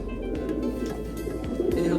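Pigeons, among them purple-necked breeding pairs kept together in a loft, coo softly in low, rolling calls that repeat over steady background noise.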